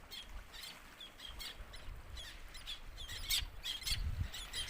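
Seabirds calling from a nesting rock out at sea, with faint repeated squawks and chirps scattered over a steady background wash of wind and water.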